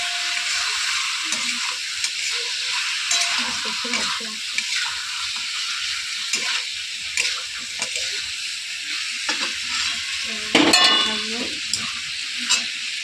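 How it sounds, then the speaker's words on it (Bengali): Chicken skin frying in a pan, with steady loud sizzling throughout and repeated scraping and stirring strokes against the pan, plus a brief burst of louder spitting near the end. "ভালো করে কষে নেবো। এভাবে করতে থাকবো 10 মিনিট।"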